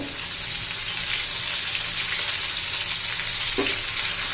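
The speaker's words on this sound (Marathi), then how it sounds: "छान असं तडू तडू द्यायचं आहे" Spices crackle in hot oil for tempering, with asafoetida, crushed chilli, ginger and garlic going in for a rustic spicy brinjal dish; a loud, steady sizzle fills the whole stretch with a brief clink near the end, and no one speaks.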